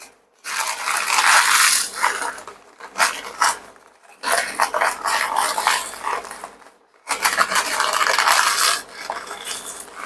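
Vermicelli roasted in ghee in a pot for milk pudding, heard as bursts of scraping and metallic clatter from stirring against the pot, loud and close, broken by brief pauses.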